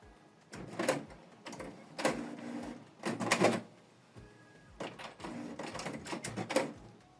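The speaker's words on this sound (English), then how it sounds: "Switch the printer on from this button." A Canon Maxify MB2150 inkjet printer powers up with a series of mechanical whirs and clunks, several bursts of carriage and roller movement separated by short pauses, close and fairly quiet.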